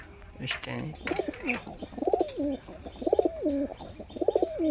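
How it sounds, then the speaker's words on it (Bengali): Several rounded pigeon coos repeat in a steady rhythm, close by, with some faint background voices and rustling between them. "মাদি পায়রাটা দেখুন শুধু একবার"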